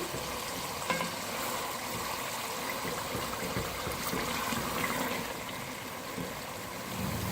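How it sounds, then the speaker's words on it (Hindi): Steady sizzling and crackling of mutton kofta meatballs frying in a pot, with faint stirring scrapes underneath, continuous and close with no voices. "अब कोफ्तों को हम भूनेंगे।"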